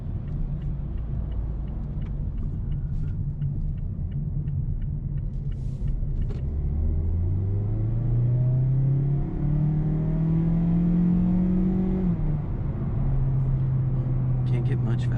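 A 2019 Mazda CX-3's 2-liter four-cylinder engine rumbles up close and climbs in pitch as it accelerates in sport mode, with people talking over the steady drone.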